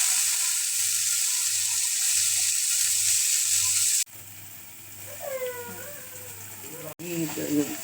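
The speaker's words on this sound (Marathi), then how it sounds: "थोडंसं भाजून घ्यायच्या" Washed vegetables pan-roasting in a hot pan, a steady close sizzle and hiss that drops quieter midway, with a voice talking over the later part.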